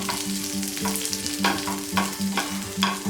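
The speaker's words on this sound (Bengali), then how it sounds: "পেঁয়াজটাও ফ্রাই করা হয়ে গেছে" Onions fry in oil in a frying pan over a low flame, a constant close sizzle punctuated by repeated scraping stirs against the pan, with no voices.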